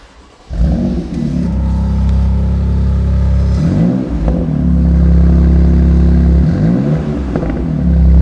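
A cold BMW M2 Competition engine fires up and holds a steady, loud, close rev around 2,500 RPM, a deep droning growl with brief wavering swells partway through and no voices over it.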